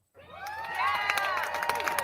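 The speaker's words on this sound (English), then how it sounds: "a round of applause." A crowd of cheering, shouting voices with some clapping swells up from silence and carries on steadily throughout at moderate loudness.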